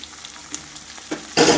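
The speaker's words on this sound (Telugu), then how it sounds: "ఇప్పుడు ఇందులో వేయాలండి చిక్కుళ్ళు. గోరుచిక్కుళ్ళు ఉడకబెట్టుకున్న చిక్కుళ్ళన్నీ ఇందులో వేసేసుకోవాలి." Boiled cluster beans dropped into hot oil with curry leaves in an old village-style pan, faint clinks giving way to a sudden loud close sizzle of frying at the very end.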